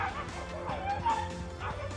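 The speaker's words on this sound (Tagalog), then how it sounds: "Maririnig din ang sabay na pagtakol ng iba pang aso" Several dogs yip, bark and whimper together at night, picked up by a CCTV camera, with a steady background hum and the cries overlapping at moderate distance.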